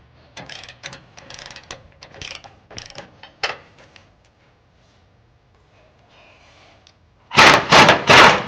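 A breaker bar loosens tight trailer hitch mounting bolts on a 2020 Ford F-250, giving a series of sharp mechanical clicks and ratcheting bursts, then a few seconds of near silence before a loud, harsh grinding stretch at the end.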